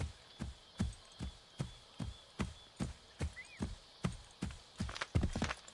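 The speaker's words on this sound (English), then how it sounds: "good idea with the horse, Lisa." Horse hooves clip-clop in Assassin's Creed III Remastered, a steady, evenly spaced walking beat of about two strikes per second, close and moderately loud, with a brief faint chirp partway through.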